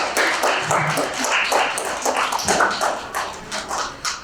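An audience at a Martin Luther King Jr. celebration in Cleveland Heights, with children under twelve among them, claps fast and loud throughout. Dense, steady applause fills the hall with a few sharper claps standing out.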